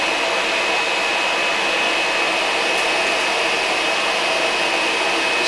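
Suction table of a screen printing press running, a constant loud broadband whoosh like a vacuum motor, unchanging throughout and with no voices.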